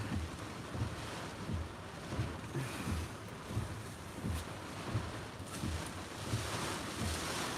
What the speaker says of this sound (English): Still getting hammered by large, big waves.